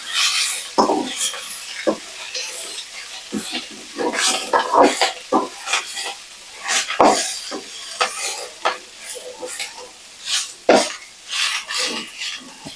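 Agathi spinach leaves are stir-fried in a pan with a soft continuous sizzle broken by repeated close scraping strokes of a spatula, irregular and fairly loud, with no voices.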